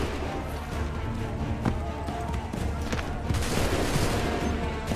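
Soldiers' muskets fire a volley during the Battle of Bunker Hill in Assassin's Creed III, a dense, continuous crackle of many shots mixed with loud battle din throughout.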